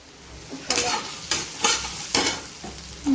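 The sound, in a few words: onion frying and stirring in a pan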